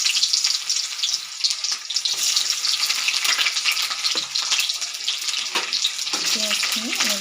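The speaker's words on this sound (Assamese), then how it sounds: "পিঁয়াজখিনি এনেদৰে লৰাই থাকিব" Chopped onions fry with fenugreek seeds in hot oil, crackling and sizzling steadily while a spoon stirs them, with scraping strokes and bursts of spatter close by and no talking.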